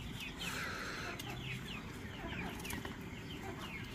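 Chickens clucking in a backyard poultry pen, several birds giving soft repeated clucks and short calls at moderate distance over a low, steady background hum, with no talking.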